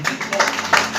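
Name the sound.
congregation clapping in church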